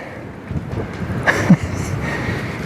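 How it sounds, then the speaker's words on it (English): Wind rumbles and buffets the microphone in uneven gusts, with a few brief knocks and bumps nearby. "It's a really windy day today."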